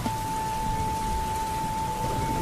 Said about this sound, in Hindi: रामू आसमान की तरफ देखकर बोला, लगता है आज बारिश मेरी परीक्षा ले रही है।